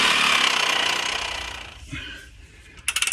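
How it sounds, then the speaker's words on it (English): A Sawzall reciprocating saw cuts through the metal heat shield on an OBS Ford 7.3 Powerstroke truck: a loud, steady, buzzing rasp fades gradually, then a few short, sharp bursts of cutting at the end. "Let me go get the Sawzall and some safety glasses. Yeah, I'm gonna get through the heat shield and start this."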